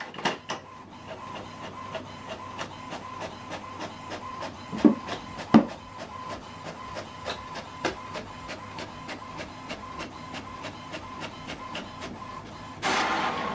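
An HP Smart Tank printer prints a single-page document, with a steady run of sharp mechanical clicks and feed pulses at an even rhythm, close and moderately loud, a couple of louder knocks midway and a brief rising whir at the end.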